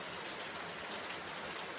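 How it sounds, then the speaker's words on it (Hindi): Heavy rain pours down steadily in a dense, even hiss that fills the whole scene, with no voices over it. "कितना तेज बारिश आ रहा है।"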